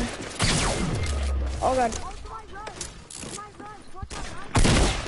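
Rapid bursts of gunfire ring out in a video game shootout, loud repeated shots and clatter mixed with game effects, while a player speaks briefly over the action.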